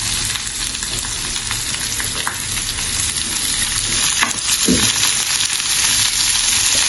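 Cauliflower fries in hot oil with onion, pandan, curry leaves and chilies, a loud continuous close sizzle broken by a few stirring scrapes, with no talking.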